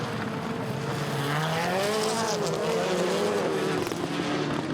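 Rallycross supercars race through a right-hander at Tierp during a RallyX Nordic 2019 semi-final, engines loud and continuous, their howl sweeping up and down in pitch as several cars pass close together.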